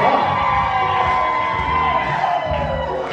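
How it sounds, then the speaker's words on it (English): A large crowd cheers and whoops loudly and continuously, with shouts and festive noise blending into a steady roar. "Come on, clap it up, y'all."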